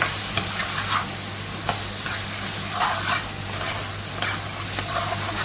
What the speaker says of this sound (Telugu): దీన్ని మొత్తం బాగా ఫ్రై చేసుకోవాలి ఇలాగా